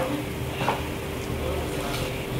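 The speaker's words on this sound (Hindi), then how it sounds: "इनको एक दो सेकेंड के लिए हम सौते कर लेंगे इस तरीके से, मसाले में एक भुना हुआ फ्लेवर आ जाए" Turmeric, red chilli and coriander powder briefly sautéing in a pan for palak paneer, a steady soft sizzle with light stirring that runs evenly throughout.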